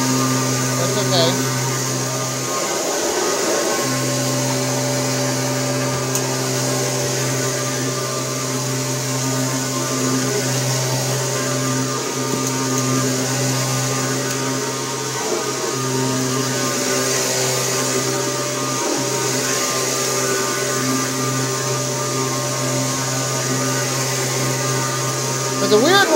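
Kirby G6 vacuum cleaner running steadily with a motor fault, a continuous loud drone with a strong low hum and whine holding for the whole stretch, small dips in level and no talk over it.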